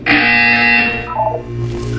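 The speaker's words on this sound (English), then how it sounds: "You will hear a buzzer." A loud buzzer sounds in the Portal 2 video game, one sustained harsh electronic tone that fades into a quieter tail.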